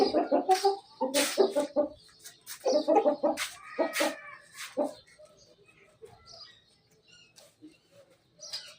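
Roosters cluck and squawk nearby in loud bursts as they are shut in, then the calls grow sparser and quieter.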